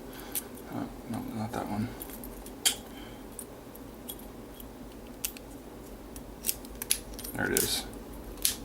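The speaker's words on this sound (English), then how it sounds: "we're going to try and pick this master lock here" Keys jangling and clicking against a Master Lock padlock as they are tried in the lock, with faint scattered metallic ticks and rattles under a person talking close by.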